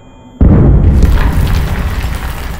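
Grenade detonating in the horror game Amnesia: The Bunker, a single sudden loud boom that hits hard after near silence, then rolls off into a long rumbling decay.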